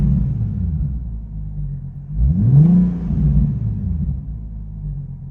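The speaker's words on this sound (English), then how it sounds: "So give it a little rev." Nissan 370Z with an aftermarket air intake idling at a steady low rumble, then a single quick rev that climbs and falls back to idle, close and clear.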